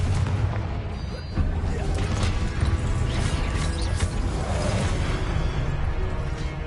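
Incendio and Confringo spells cast in Hogwarts Legacy, heard as a steady loud stream of game combat noise with booms, crackling bursts and mechanical clatter that continues without a break.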